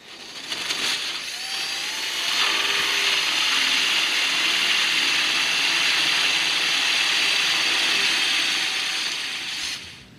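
A power drill runs steadily and loudly for about nine seconds while boring holes to mount a rear door hinge and plate on a TruGreen Rhino truck, a continuous close whirring grind with no talk.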